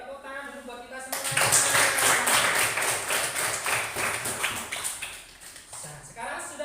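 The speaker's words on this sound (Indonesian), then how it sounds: "Oke, tepuk tangan dulu buat kita semua." A classroom full of students claps together for several seconds, a dense, steady patter of hands. It begins after a brief spoken voice and thins out toward the end.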